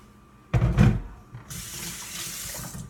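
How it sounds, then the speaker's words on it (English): A kitchen tap runs as hands are rinsed while making lasagna, a brief splash followed by a steady, close hiss of flowing water. "Quick rinse of my hands there so I don't get too dirty doing this."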